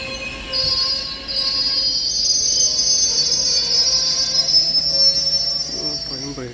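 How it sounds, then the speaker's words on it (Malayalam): Train wheels and brakes squeal loudly as a train slows to a stop near Nagercoil in the rain, a sustained high-pitched metallic screech over a low rumble that holds for several seconds, with a faint voice near the end. "ട്രെയിൻ ബ്രേക്ക് പിടിക്കേണ്ട ശബ്ദം"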